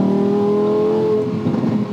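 A pink Tesla accelerates onto the Autobahn, giving off a rising electric whine with layered tonal hum and road rumble that loosens and grows rougher toward the end, close and continuous with no talking.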